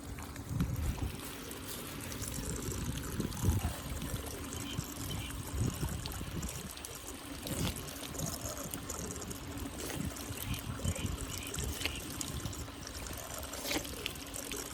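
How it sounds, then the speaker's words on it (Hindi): A tubewell in a village gushing water, a steady rushing pour with continuous splashing that stays constant and fairly close throughout, with no talk over it. "क्यों ना ट्यूबवेल पे 2 बूंद पानी पी ली जाए"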